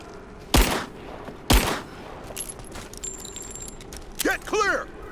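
Two sharp gunshots from the video game Rise of the Tomb Raider crack close and loud about a second apart, with shouted in-game voices in between and a few softer clanks and whooshes afterward.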